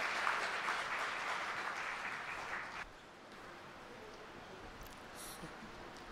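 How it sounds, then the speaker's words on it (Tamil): Audience applause welcoming speakers at a Tamil debate gathering, a dense burst of clapping that fades after a few seconds into quieter room noise. "ஒரு கைதட்டு கொடுத்து நீங்கள் அவர்களை வரவேற்க கேட்டுக்கொள்ள"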